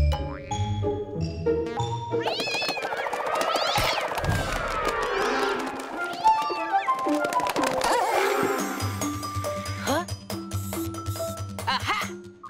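A cartoon kitten meows in short high cries over bright musical chimes and jingles, with the music continuing throughout.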